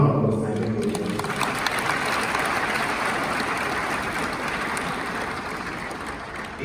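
Sustained audience applause at the launch of a one student one laptop programme in Ghana, a dense, steady wash of many hands clapping that fills the whole stretch at even loudness, with a voice heard briefly at the start.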